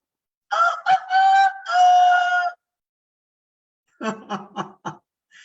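People imitate a domestic rooster crowing, two bursts of voiced cock-a-doodle-doo calls followed by a pause and then a choppy round of shorter whoops and laughter.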